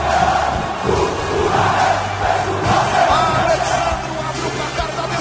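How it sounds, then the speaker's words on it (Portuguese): Vasco supporters in a stadium roar after a goal in a final, a loud, sustained crowd cheer with shouts and yells rising and falling throughout. "Faz a festa a torcida do Vasco."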